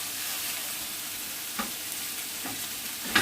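Crushed garlic and flour sizzle in a frying pan for a yam stew, a steady frying hiss broken by a few scraping strokes of a spatula, close and alone.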